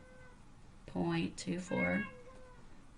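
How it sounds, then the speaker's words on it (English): Pet cat meowing twice in quick succession, fairly close and loud, over a quiet room with faint background hum. "Can y'all hear my cat?"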